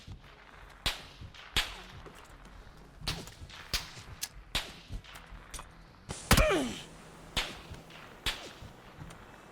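Gunfire in the battle royale game PUBG: a run of sharp single shots at irregular intervals, with one louder, longer crack and ringing tail partway through. No talking.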